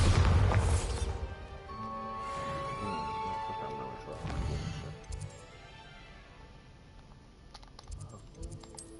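The Bombarda blasting spell goes off in Hogwarts Legacy as a deep, booming blast at the start, followed by crackling debris and a second, softer thump, with faint game sounds afterward.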